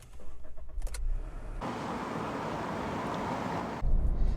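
A 2018 SEAT Ibiza with a 1-litre three-cylinder petrol engine driving on the road, a steady broadband hum of engine and road noise inside the cabin, with a shift in tone near the start and again near the end.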